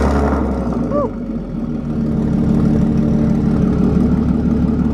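A Ford 4.6-litre three-valve V8 car engine runs loud and close, holding a steady throaty drone for five seconds with little rise or fall in pitch, while a voice speaks briefly near the start.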